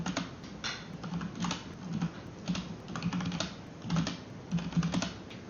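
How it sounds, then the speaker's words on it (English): Steady typing on a computer keyboard while writing an email, a continuous patter of close key taps with irregular rhythm and occasional louder strokes, heard alone without talk. "Been typing an email for the past 30 minutes or so."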